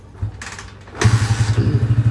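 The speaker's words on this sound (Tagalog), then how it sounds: "Tapos na tong motor ni Bossing" A motorcycle fitted with a converted 200cc pushrod engine starts with a short cough, then settles into a steady, loud, close idle with an even pulsing beat.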